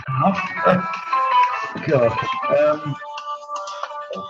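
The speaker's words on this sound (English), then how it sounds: "And that's my phone now." Mobile phone ringtone plays a tonal melody over someone talking during a conversation, then continues alone for a moment as the speech stops.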